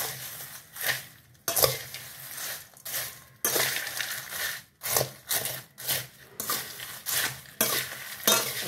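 Fasting chivda is tossed with red chilli powder and sugar, giving rhythmic crunchy rustling and rubbing swells that rise and fall in repeated strokes, loud and close, with no voices.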